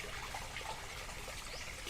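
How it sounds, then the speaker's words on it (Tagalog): Steady, continuous trickle of a stream running beside a quiet home, an even gentle babble with no voices. "maririnig niyo po yung agos ng tubig"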